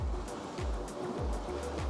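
Sea waves on the Norfolk coast at Happisburgh wash steadily onto the shore in a continuous, fairly close roar, with regular surges swelling every half second or so over a constant low rumble.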